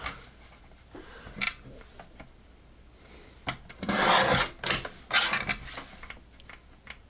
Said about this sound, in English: I'm just trimming some of this red off to try to make it even all the way around.